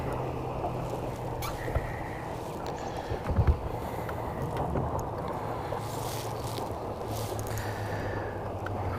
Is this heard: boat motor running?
yes